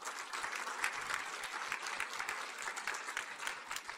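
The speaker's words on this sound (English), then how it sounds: "please give a round of applause for all the presenters of the morning" A workshop audience gives a steady round of applause for the morning's presenters, a soft, even patter of clapping hands heard from a distance in a meeting room.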